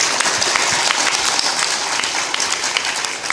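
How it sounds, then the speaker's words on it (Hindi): An audience at a spiritual discourse claps loudly, a full, sustained burst of hand clapping that stays strong throughout without any talking over it. "जोर से ताली बजाओ"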